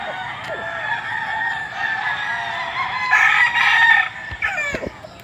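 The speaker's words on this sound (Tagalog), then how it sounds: "ito yung hilera ng mga manok namin" Several roosters, including White Kelso gamecocks, crow loudly and overlap at 6:20 in the morning, with clucking between the crows in a busy farmyard.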